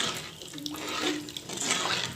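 Water poured into a pot of thoodhuvalai rasam, a soft continuous splashing trickle, fairly faint and close, lasting a couple of seconds with no talk.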